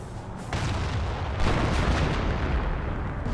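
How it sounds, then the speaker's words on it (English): Mortar fire in the World War II strategy game Company of Heroes, a dense continuous rumble of heavy booms and distant artillery thuds rolling together, with a sharper burst near the middle and no pauses. "Mortar firing away"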